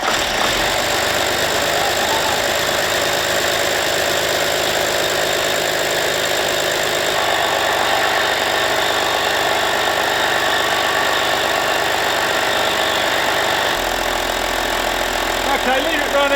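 Audi diesel car engine turning over and settling into a steady, clattering idle, loud and close throughout, with people talking nearby.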